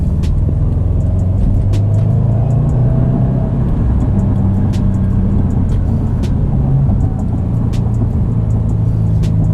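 A 2019 Subaru WRX STI engine drones steadily while driving, a low rumbling whir heard from inside the car with small shifts in pitch and a few faint ticks over the top.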